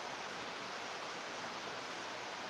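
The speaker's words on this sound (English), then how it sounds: "because it's pouring down rain outside" Heavy rain pours down outside on a Sunday afternoon as a soft, even hiss of dense rainfall, faint and constant, with no voices over it.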